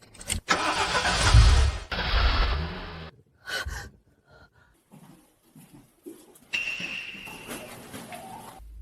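A car engine cranks and catches in a tense scene, a loud starter whir and engine roar up front, then quieter gaps with breathy gasps and sighs, and a further engine rev near the end.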